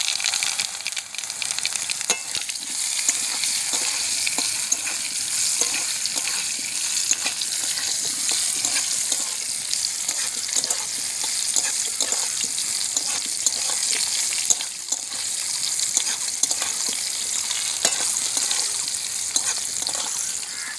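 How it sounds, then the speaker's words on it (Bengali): Loud, crackling sizzle of mango pieces frying in hot oil, steady throughout with bright popping spatters, close up and no talking. "আমগুলোকে ভেজে নেব।"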